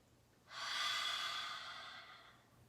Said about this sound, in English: We can make our big dragon breath.